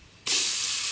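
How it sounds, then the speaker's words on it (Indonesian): Spice paste dropped into hot oil for sautéing in a kampung chicken coconut-milk dish bursts into a loud, steady sizzling hiss that begins abruptly and carries on evenly, close and alone. "Kita tumis sampai harum."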